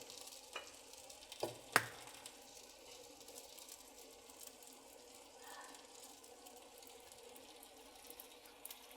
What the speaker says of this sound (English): Eggs are cooking really nicely.